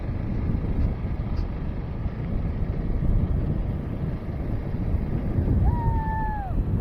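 A Trailmaster MB200 mini bike rumbles along on a ride, its low engine drone steady and loud under wind buffeting, with a brief whistle-like tone near the end.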